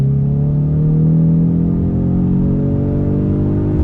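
A Ford Mustang HPP engine pulls hard on throttle, its loud, close drone rising steadily in pitch as it accelerates, with no talking over it.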